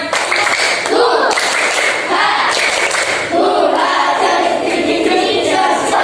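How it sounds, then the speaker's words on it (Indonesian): Students in a classroom repeat a patterned spirit clap together, sharp rhythmic handclaps in quick sets mixed with loud chanted voices, close and energetic. "Ya, satu kali lagi, tepuk semangat."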